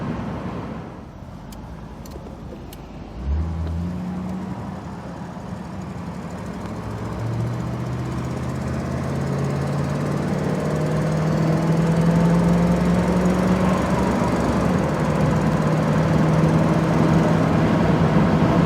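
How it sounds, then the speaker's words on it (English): A 1967 Ford Mustang convertible with a 289 V8 accelerating from inside the car, a low engine note rising steadily in pitch over a sustained run, steady road and wind noise underneath, no talking. "It accelerates like you'd expect the 289 to accelerate."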